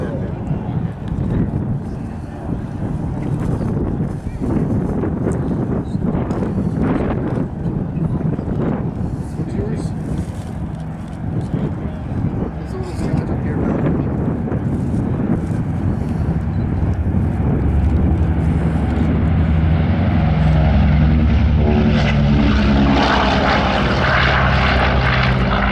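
FIFI, a World War II propeller airplane, rolls for takeoff at an air show, its piston engines building from a rumbling roar to a louder, higher drone, with wind buffeting the microphone and crowd noise underneath.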